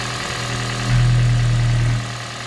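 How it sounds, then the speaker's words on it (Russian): A Toyota Crown engine idles with a steady low hum that swells into a louder, smoother drone for about a second before settling back. "Моторчик шепчет, сейчас обучается"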